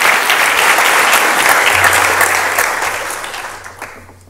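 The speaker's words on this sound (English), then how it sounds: "One more round of applause." A conference audience at a security testing talk bursts into a round of applause, loud and dense at first, then thinning and fading toward the close.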